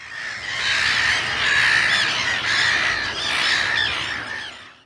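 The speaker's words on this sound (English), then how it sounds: "and this is a black-headed gull." A black-headed gull utters harsh, rasping squawks in a near-continuous run of overlapping calls, loud and close, rising and dipping slightly in intensity before fading at the end.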